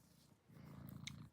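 A roughly fourteen-year-old male cat purrs softly and steadily at close range, a low rumbling that swells after a brief lull, with no talking over it.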